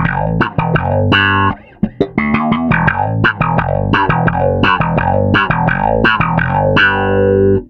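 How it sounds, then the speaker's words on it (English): Bass guitar played through a DOD 440 envelope filter blended with the clean direct channel, giving a steady run of plucked notes with a wah-like sweep, loud and up close and continuous. "let's hear a similar sound again, and this time with the envelope filter and the direct channel combined"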